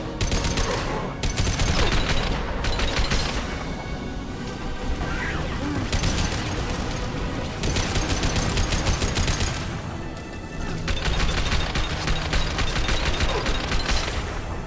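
A turret firing in the video game Mass Effect 2, heavy rapid bursts of automatic gunfire with booming impacts, loud and near-continuous with short breaks between volleys.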